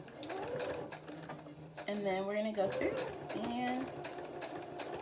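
A sewing machine back stitches the end of a seam on a fabric candy corn pillow, a close mechanical whirring with a brief rising-pitch motor burst, while someone talks over it.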